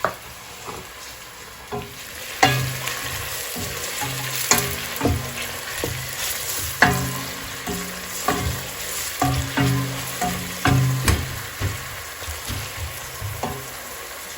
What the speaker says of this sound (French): je vais faire revenir ça dans l'huile chaude